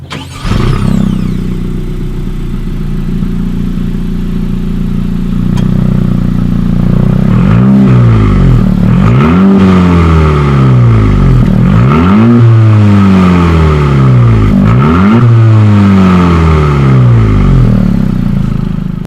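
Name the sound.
sports car exhaust revving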